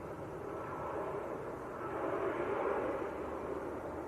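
An EasyJet Airbus A321neo arriving from Geneva at Manchester Airport gives a broad, steady jet roar that swells slightly midway, heard from a distance without voices.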